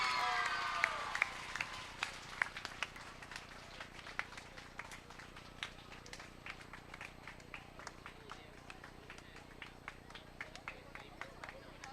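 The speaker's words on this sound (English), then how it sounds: "Let's clap hands for the overall championship winners of this year" A school sports day crowd claps and cheers for the overall championship winners, the red team; scattered, fairly distant clapping with sharp individual hand claps rings out across an open space, briefly louder at the start, while people talk underneath.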